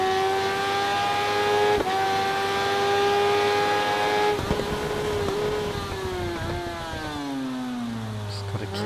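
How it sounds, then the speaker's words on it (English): Racing motorcycle engine whine in the RIDE 3 video game at the SUGO endurance race, a steady high-revving tone that shifts pitch with gear changes and a rival KTM close behind. "Every now and again I can hear that KTM behind."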